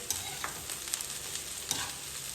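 Sliced ampalaya (bitter gourd) sizzles loudly in hot oil in a frying pan, a dense, steady crackle with a few sharper pops and spatula scrapes close by.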